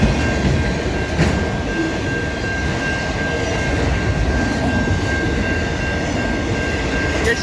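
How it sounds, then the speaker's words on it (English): A Norfolk Southern heritage unit freight train rolls past at Egerton St in London, Ontario: a loud, steady rumble of wheels and cars on rails, continuous throughout with a faint high tonal whine, no voices. "For once, I got to see a Norfolk Southern Heritage unit."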